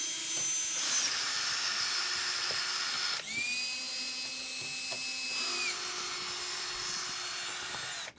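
Whining power drill or electric screwdriver backing screws out of a large, heavy 89-pound shipping box at home, running steadily in long bursts with shifts in pitch as each screw releases.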